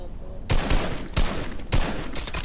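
Gunfire in Fortnite, a few sharp, loud bursts of rapid shots spaced roughly half a second apart, close up over the game's background sound.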